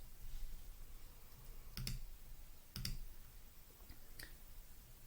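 A computer mouse clicks three times in a quiet room, with a sharp double click near the start, another soon after and a softer single click toward the end, all close and over a faint steady hiss.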